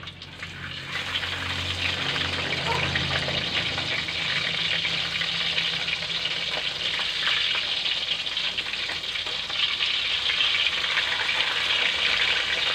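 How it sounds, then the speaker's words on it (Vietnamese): Snakehead fish frying in a pan of hot oil, a steady, loud, continuous sizzle and crackle with no talking. "Và mình chiên cho nó chín vàng mặt còn lại nữa là được nha các bạn."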